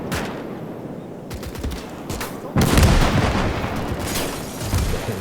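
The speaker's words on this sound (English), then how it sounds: "nasty cannon placement up there." Cannon and gunfire in the Gates of Hell strategy game, with scattered sharp reports and then a heavy burst of firing that becomes louder and denser halfway through, alone without speech.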